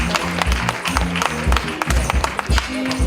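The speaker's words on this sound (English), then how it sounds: "Round of applause for Faiz." An audience applauds an outfit designer at the opening of a medical centre in Kibera, with dense, sustained clapping from a close crowd over music or a murmur of voices.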